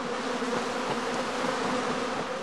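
A swarm of honeybees hums loudly and steadily as the restless insects move about, a dense continuous buzz filling the space without pause.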